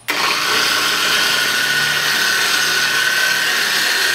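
A dual-action polisher at low speed spreads polish across car paint, giving a steady, loud whirring hum that starts abruptly and holds even for about four seconds, with no talking.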